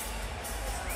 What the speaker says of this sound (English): And a crowd acknowledging the great man